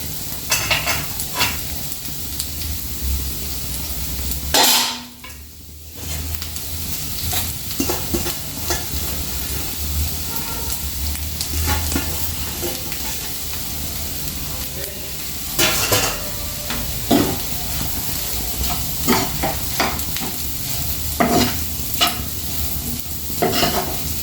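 Egg and onion curry fries in a pan, a close sizzling hiss under repeated scraping and stirring strokes, with a brief louder burst of steam around the fifth second and no speech.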